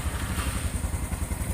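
Fuel-injected motorcycle started with the electric starter in a workshop, its engine catching and running with a loud, steady, throbbing idle up close.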